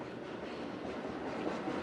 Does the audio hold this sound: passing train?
yes